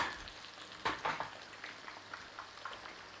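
A schnitzel frying in a pan, faint crackling sizzle with a few sharper pops and spits scattered throughout, close and without talk.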